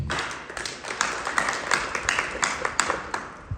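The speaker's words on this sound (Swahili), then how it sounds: "Tuwapigie makofi" A live audience at a cooperative society's gathering breaks into applause, a dense, steady patter of many hands clapping together at close range with no voices over it.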